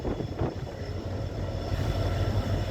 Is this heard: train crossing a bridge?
yes